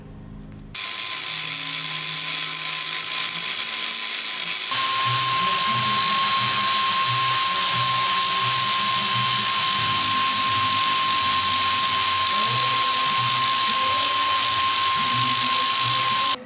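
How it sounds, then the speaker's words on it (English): A steady, high-pitched power tool whine runs continuously while grinding off a wrench welded to steel, with a sustained tonal screech and a low rhythmic pulsing underneath, loud and close. "So I just gotta cut that off and grind it."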